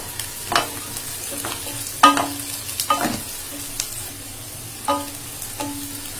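Cardamom, cinnamon and bay leaf fry with onions in a pan, giving a low steady sizzle broken by several sharp scraping stirs of a spatula, with no voices.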